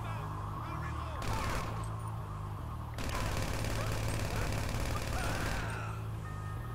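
Rapid gunfire in a shooter video game rattles in dense, continuous bursts, loud and close, cutting in and out over a steady background rumble.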